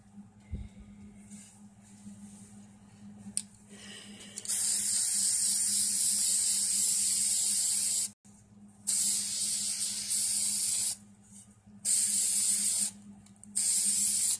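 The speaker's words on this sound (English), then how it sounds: "We all know what people spray painting looks like" An aerosol spray paint can hisses in several long bursts separated by brief pauses, loud and close, after a quieter stretch of room noise.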